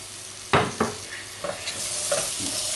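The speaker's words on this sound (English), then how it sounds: "So next I'm adding in the turkey" Leftover turkey sizzling in a pan as it goes into curry, with a few sharp scrapes and knocks of stirring over a steady frying hiss, close and moderately loud.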